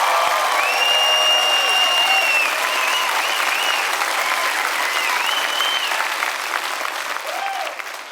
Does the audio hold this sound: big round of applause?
yes